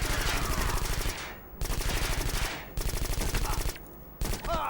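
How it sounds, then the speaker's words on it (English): Bursts of rapid machine gun fire ring out in the Xbox shooter game Black during the Naszran Foundry stage, coming in three loud sustained volleys separated by brief pauses. "And just suppress the hell out of them with a machine gun."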